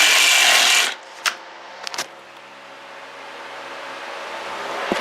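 A corroded, rusty vent pipe on a Slant/Fin Galaxy GXHA 200 EDPZ boiler with a Tjernlund HS1 sidewall power venter is cut. A harsh, loud burst lasts about a second, then gives way to faint clicks and a low hum.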